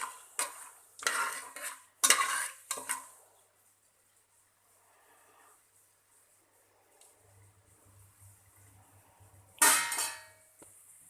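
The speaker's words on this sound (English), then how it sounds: "So you just try to just stir it for a while, till the time you just feel that the aroma is coming out of the spices" Spices frying in a pan for mutton biryani, stirred with a metal spoon in bursts of scraping and clinking, followed by a quiet stretch of faint sizzle and a final loud scrape.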